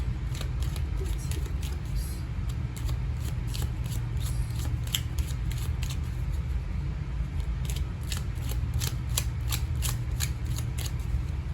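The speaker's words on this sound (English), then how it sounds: "Sorry for the extended shuffling, as always." Tarot cards are shuffled continuously, a steady run of crisp riffling snaps over a low background rumble.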